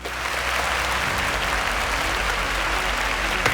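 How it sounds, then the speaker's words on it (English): Studio audience applauding contestants on a student quiz show, a loud, sustained burst of crowded clapping that builds quickly and holds steady throughout. "A round of applause for them."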